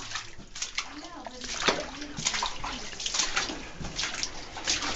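Splashing and sloshing water as people wade through a pool in a muddy cave, steady wet churning throughout with voices talking nearby.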